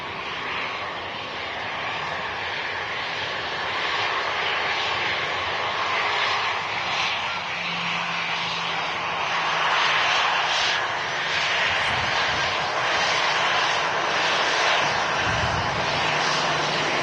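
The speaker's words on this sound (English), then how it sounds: "They were on 23 right at Manchester. Coming in from Amsterdam. The A319" An EasyJet Airbus A319 arriving from Amsterdam lands on runway 23 right at Manchester Airport, its engines a loud, sustained roar that swells and shifts gradually with no talk over it.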